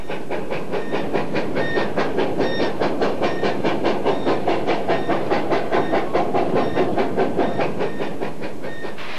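A Garrett steam locomotive runs on rails, its steady rhythmic chuffing and clickety-clack beating loud and close beneath a constant steam hiss, with no voices present.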